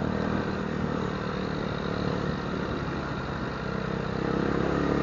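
A KTM motorcycle engine runs steadily during a road test in Baguio City, a continuous broadband rumble with no breaks, fairly loud and close throughout.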